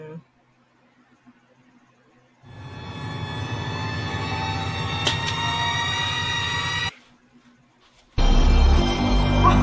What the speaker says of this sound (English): this is Ultimate Doom on the PS1 and the music sounds like this